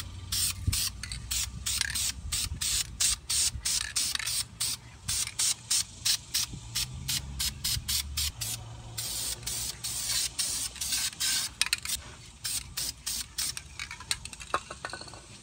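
Aerosol spray can applying clear coat to painted brake calipers, heard as many short hissing bursts in a steady rhythm, close and fairly loud, with no talking.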